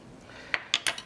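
A serving spoon clinks a few times against a plate and dish while bread pudding is scooped out, three soft, close metallic taps in quick succession.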